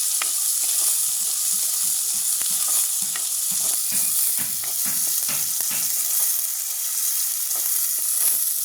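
Green chili and onion sauté in a pan over village cooking heat, a loud continuous close sizzle with scattered crackles and stirring clicks, no voices.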